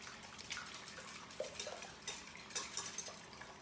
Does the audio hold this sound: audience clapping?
no